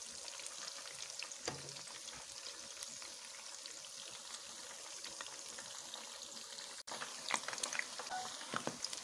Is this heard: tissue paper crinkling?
no